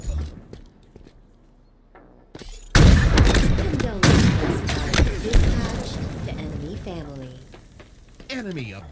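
Gunshots in a Halo match, heavy booming reports and rattling fire from close by, heard under lively excited commentary from several voices.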